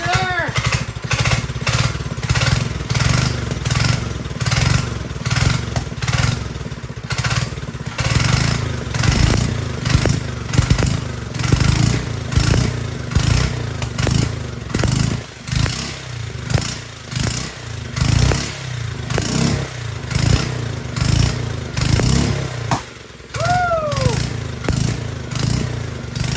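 A 1950s tiller engine fitted with a Mikuni carburetor runs and idles loudly and close, with a steady chugging putter that rises and dips throughout and a voice talking over it at times.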